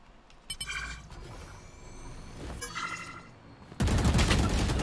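Gunfire in the tactical shooter Valorant strikes the player, with a sharp burst of shots early on, scattered reports through the middle, and a loud, dense volley of fire near the end.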